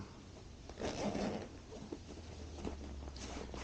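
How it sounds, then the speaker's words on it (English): A zipper on a DJI Mini 2 drone pouch is pulled open in a few short, rasping runs, quiet and close by. "The zipper on the front that opens this pouch"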